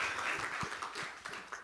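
Modest applause after a talk on electric and driverless cars and transportation decarbonization, a room of hands clapping fairly quietly at a distance for under two seconds.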